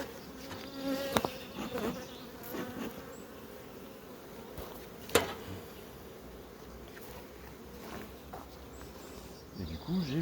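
Honeybees buzz steadily around beehives, a dense close swarm drone lasting throughout with a few sharper nearby passes, while someone speaks briefly over it.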